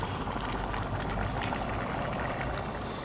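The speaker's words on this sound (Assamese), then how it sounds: "এতিয়া যিহেতু খাব পৰা হৈ গ'ল উতলি আছে বকবককৈ" A traditional Assamese curry with small tomatoes bubbles in a pot on a gas stove, a close, continuous burble of boiling liquid with dense popping bubbles and no voices.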